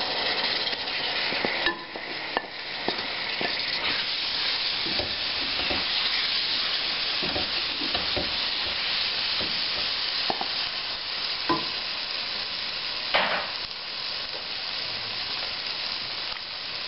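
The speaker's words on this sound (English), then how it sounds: "Here goes the quartered artichoke hearts." Quartered artichoke hearts sizzle and crackle steadily in a hot pan for oyster and artichoke soup, with a spoon stirring and scraping at intervals throughout.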